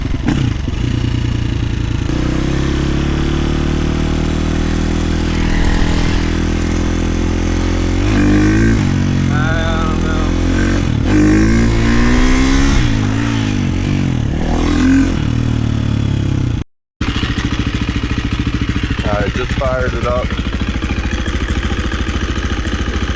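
KTM 350 motorcycle engine idling steadily, then revving up and dropping back on deceleration several times with rising and falling pitch, loud and close, a brief cut partway, followed by more idling and another short rev.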